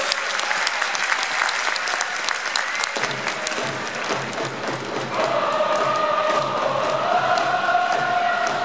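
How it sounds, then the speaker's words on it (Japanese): Stadium crowd at a Tokyo Verdy J2 League football match bursting into sustained applause, dense clapping from many hands that continues steadily throughout, with a faint announcer-style voice and light crowd noise beneath. "皆さん大きな拍手をお願いいたします。"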